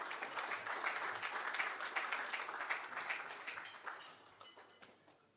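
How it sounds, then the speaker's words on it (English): Applause from a breakfast audience for the event sponsors, Wisinco, Seprod, the Musson Group and Rainforest: fairly faint, distant patter of clapping that gradually thins and fades out toward the end. "Give them a round of applause"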